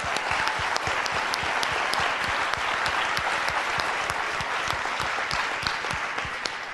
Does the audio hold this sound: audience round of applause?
yes